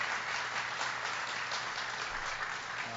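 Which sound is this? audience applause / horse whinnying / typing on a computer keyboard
audience applause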